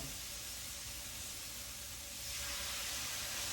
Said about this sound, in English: There we go with some sizzle, sizzle.